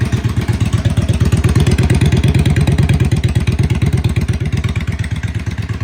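A 2017 Yamaha XVS650 motorcycle, a dropped salvage bike, runs on a test, its exhaust giving a close, steady, loping pulse with rapid even beats and a slight mechanical clatter.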